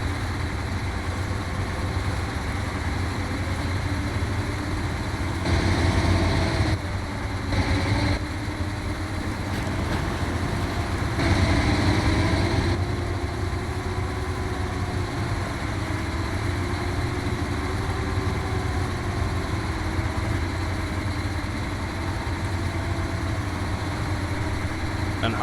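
Derry Longhorn 4520 truck engine in SnowRunner, a steady low diesel drone running throughout, with the revs swelling briefly twice as the truck works through terrain in high gear.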